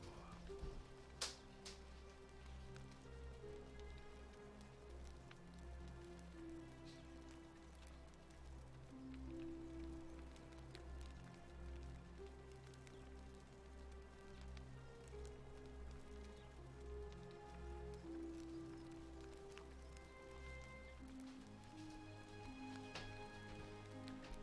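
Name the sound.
rain and wind outside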